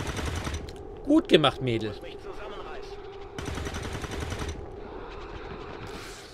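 Bursts of gunfire ring out in the video game XCOM 2, sharp shots followed by rapid rattling fire, with a voice speaking briefly between them.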